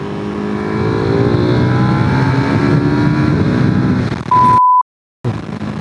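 A Ducati 959 Panigale motorcycle engine drones loudly while riding, its pitch climbing as it revs, followed near the end by a short beep and a brief dropout.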